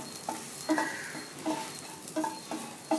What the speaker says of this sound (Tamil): கொஞ்சம் சிவக்க வறுத்துக்கணும்.